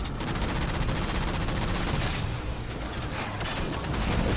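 Rocket, cannon and machine gun fire rage in a Halo 4 battle, with dense, continuous, loud rattling bursts and booms filling the whole stretch without pause.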